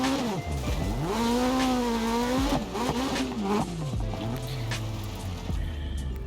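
Rally car engine in the video game DiRT Rally 2.0, loud and continuous, revving up and down through gear changes with swooping pitch, tire squeal and gravel skidding, no talk.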